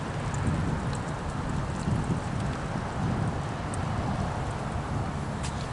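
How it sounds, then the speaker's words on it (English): Steady rain falls outdoors at a campsite. The hiss is constant and moderately loud, with occasional sharper drops and some wind noise. "It's raining, but so what?"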